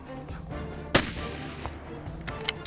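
A single sharp rifle shot cracks out while hunting mule deer in Colorado country, a sudden loud report over quiet outdoor ambience, followed by faint small knocks.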